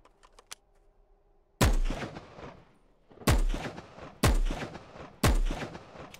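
Four loud, sharp sniper rifle shots in the online survival game Will To Live Online, spaced about a second apart, each with a booming echo tail, preceded by faint clicks.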